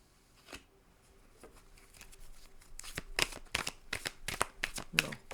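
Tarot cards drawn and handled at a reading: faint papery slides at first, then a quick run of crisp card flicks and rustles growing louder near the end, with no clear talking.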